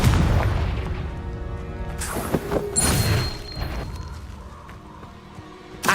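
Hogwarts Legacy Confringo fire spell blasts in combat: a booming, crashing burst with thuds and a trailing rumble, layered over steady game noise and fairly loud.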